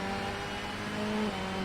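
A Nissan Primera race car in Assetto Corsa at Mondello Park drones with a steady engine note at constant revs, a continuous close mechanical hum with no talking.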